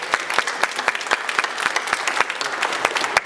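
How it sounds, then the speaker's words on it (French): Workshop participants applaud themselves after finishing an exercise, a short, steady round of clapping from a small group with distinct rhythmic hand claps throughout. "Je pense qu'on peut tous s'applaudir très fort de l'exercice qu'on vient de faire."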